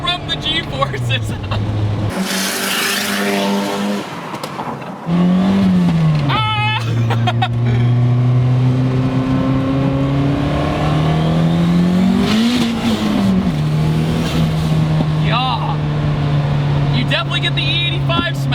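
Turbocharged 400hp Ford Escort running on E85 accelerating hard, its engine note climbing in pitch through repeated gear pulls, loud and close from inside the cabin, with occupants talking over it.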